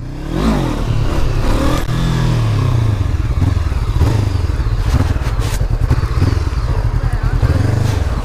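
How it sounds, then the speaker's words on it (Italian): A Honda CB 500 motorcycle revs hard throughout a wheelie, its exhaust roaring loud and close with rising and falling engine pitch, plus some clatter and scraping. "Sono scarico com'è, da paura! È troppo silenziosa solo!"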